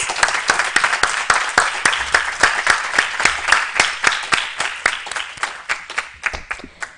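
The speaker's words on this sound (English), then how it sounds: "Ladies and gentlemen, let's give them a big round of applause." A debate final audience applauds a speaker from Royal College, Colombo, with sharp, distinct claps in a steady patter lasting several seconds, close and fairly loud, slowly tapering off toward the end.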